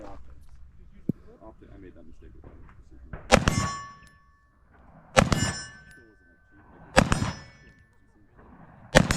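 Bullets striking steel popper targets at a shooting match, four sharp metallic clangs that ring out loudly at spaced intervals, with a few faint voices and a quieter tap between them.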